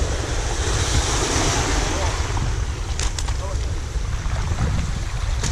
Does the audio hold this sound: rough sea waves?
yes